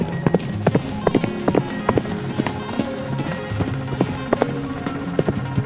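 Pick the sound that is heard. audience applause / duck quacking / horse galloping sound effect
horse galloping sound effect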